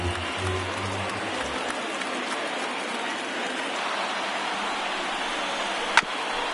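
A stadium crowd of over 39,000 cheers on its feet in a PS4 baseball video game: a steady, dense roar of noise with one brief sharp crack near the end.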